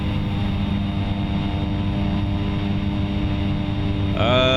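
Simulated aircraft engine with propeller in X-Plane 11, a steady loud droning hum that rises in pitch as the throttle comes up near the end.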